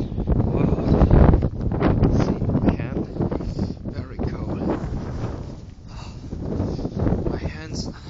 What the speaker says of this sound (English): So you can see how strong the wind is.